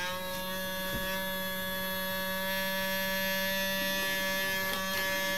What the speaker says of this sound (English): obviously the motor is running